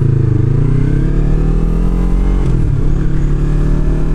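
Yamaha R3 motorcycle fitted with a slip-on exhaust, riding on a street with a steady, loud, close engine drone that rises and falls with throttle, running alone without talk.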